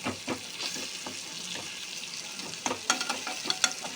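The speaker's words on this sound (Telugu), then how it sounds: "మధ్య మధ్యలో ఇట్లా కలుపుకుంటూ బాగా ముక్కని నూనెలో ఫ్రై అవ్వాలి" Chicken liver pieces fry in oil in a pan, a steady close sizzle throughout, while a utensil stirs and scrapes them with light scattered clicks and taps that grow sharper toward the end.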